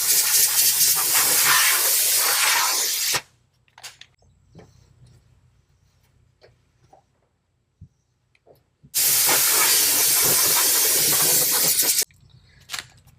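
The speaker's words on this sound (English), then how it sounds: "I'm going to spray this off with the air hose, wipe it down" An air hose blasts compressed air across the wheel well of a Chevy Duramax dually truck in two long, loud hissing bursts of about three seconds each, separated by quiet shop noise and followed by a brief trailing hiss.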